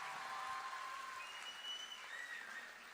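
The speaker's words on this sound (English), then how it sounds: "Shall we give them a round of applause on behalf of Father Muller Charitable Institution?" A crowd at a medical college's silver jubilee celebration gives a musical troupe a round of applause, a steady, distant wash of clapping that holds evenly and then tapers slightly.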